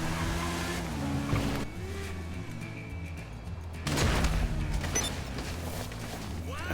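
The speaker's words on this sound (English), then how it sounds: "We'll take a car for a drive." A car in GTA 5 drives with a loud engine drone whose pitch rises and falls as it accelerates and shifts, with a louder surge partway through and no talk.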